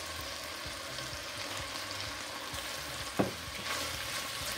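Salt codfish frying in a pot, a steady close sizzle with occasional stirring scrapes and one brief clink, no voices.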